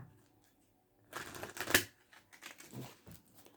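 Tarot cards being shuffled in a quiet room, a dense rustling, riffling burst that swells and then breaks into several shorter papery shuffles and slides, close and fairly soft.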